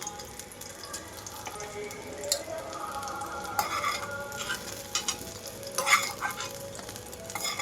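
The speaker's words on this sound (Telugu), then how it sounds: "2 నిమిషాల పాటు వేగనిస్తున్నాను. ఇక్కడ చూడండి, పచ్చిమిరపకాయలు అన్నీ వేగిపోయినాయి కదా." Green chillies frying in oil in a pan for tomato coconut chutney, a steady close sizzle with occasional scraping and stirring clicks, no talking.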